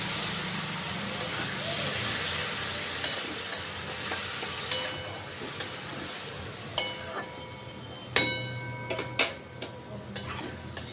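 Spice paste of ground white and black mustard seed, poppy seed and ginger frying in a pan, with a soft steady sizzle broken by sharp clicks and taps of a spoon stirring against the pan.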